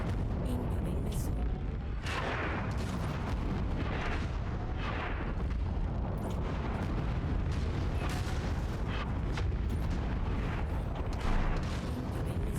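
Incoming missile strikes in MechWarrior 5: Mercenaries land as a run of heavy booms and crackling bursts over a constant battle rumble, with a voice talking through part of it.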